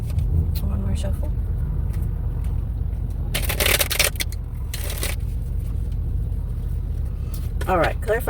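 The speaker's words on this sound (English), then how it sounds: "One more shuffle." Cards riffled and shuffled close up, a couple of quick fluttering bursts over a low background rumble, with a voice speaking briefly near the end.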